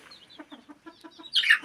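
Stressed chickens by a hidden nest: a hen gives a rhythmic run of short low clucks, then a loud high squawk bursts out near the end, close up.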